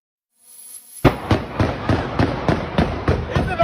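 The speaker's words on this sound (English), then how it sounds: "gunfire erupted outside a busy Atlanta restaurant" Gunfire outside a busy Atlanta restaurant, captured in news footage: a rapid, evenly spaced run of about nine loud cracking shots, each snapping out over a continuous background rumble.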